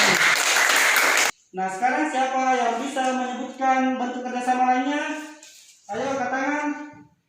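Students in a classroom clap together in a brief burst of applause, which stops abruptly before a teacher begins speaking at length.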